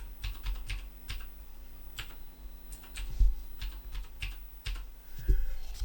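Fingers type a password on a computer keyboard, a string of separate close, light key clicks in an uneven rhythm, with no voices.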